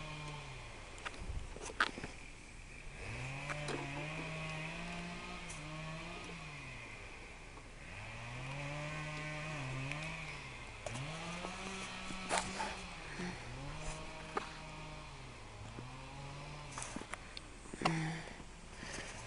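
A compressed-air powered push mower engine runs steadily with no one talking, its buzzing drone wavering up and down in pitch as the throttle is adjusted by hand.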